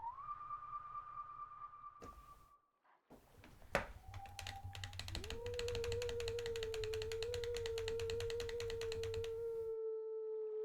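Wolf Link howls in Zelda: Twilight Princess as long sustained tones, one early and another stretching across the second half, joined by a rhythmic chiming game-music backdrop with no speech.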